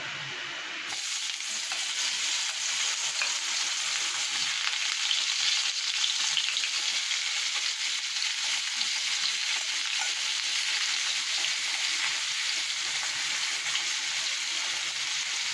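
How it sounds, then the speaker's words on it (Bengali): Raw green banana slices frying in hot oil, a steady, close bubbling sizzle with fine crackles that runs evenly and alone throughout. "দেখো এগুলো কিন্তু কাঁচকলা ভাজা হচ্ছে।"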